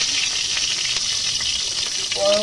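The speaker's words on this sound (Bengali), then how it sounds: "যে মশলা পটল সব কড়াতে দিয়ে দিলাম, দিয়ে একটু কষে নিতে হবে।" Spices and chunks of pointed gourd fry in hot mustard oil in a kadai, giving a loud, continuous sizzle with faint stirring, and a brief tonal clink near the end.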